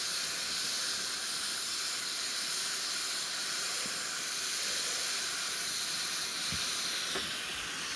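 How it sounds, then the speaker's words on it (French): Water poured into a hot pan of lardons sizzles and hisses as it deglazes, a steady broadband hiss filling the whole stretch with a couple of brief louder spits near the end, no talking. "je déglace juste avec un petit peu d'eau"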